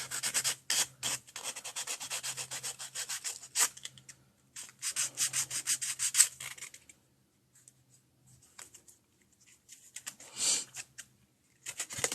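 Hand sanding with 320 grit extra fine sandpaper while making cards for tablet weaving, heard as soft, close, rhythmic rubbing strokes in bursts with short pauses between them.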